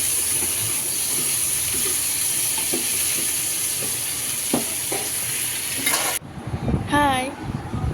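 Khichuri coming to a boil in a pot is stirred, bringing a steady hiss and bubbling with soft scrapes and knocks of the spoon; after about six seconds it cuts off and a voice and chatter follow.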